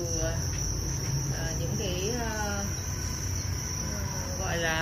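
Crickets on a cricket farm chirp in dense, continuous high trills, close and steady, with brief soft speech underneath.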